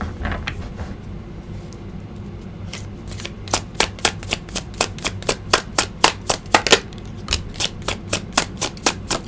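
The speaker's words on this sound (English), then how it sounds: "I do want to pull some cards here." Tarot cards shuffled by hand, a soft riffle at first building into a rapid run of crisp, evenly spaced flicks and snaps, close and clear with no talking.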